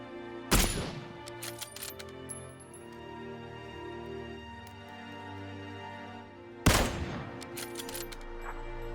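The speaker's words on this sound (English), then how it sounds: "I will be firing a Kar 98K, SCAR-L and UMP9 with and without a suppressor" Two loud, sharp Kar 98K rifle shots in PUBG, several seconds apart, each with a short ringing tail, and faint game ambience between them.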